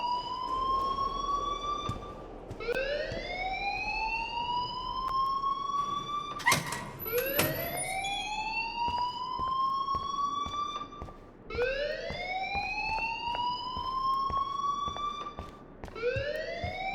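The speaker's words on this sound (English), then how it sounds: "please turn off that alarm since that's your job" A fire alarm wails in Life is Strange, a rising-then-falling electronic siren sweep repeating about every four to five seconds, loud and continuous, with a couple of brief knocks partway through and no talk.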